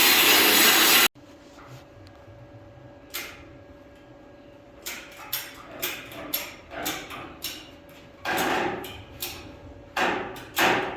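Cutting tool working on the welds of a landscape trailer's top rail, a series of sharp grinding and rasping bursts of uneven rhythm after a loud opening blast, close and moderately loud, with no speech.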